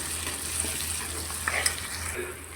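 Ginger garlic paste fries in a pan for a prawn and egg curry, a soft, steady sizzle with faint stirring scrapes and small pops, heard close with no voices.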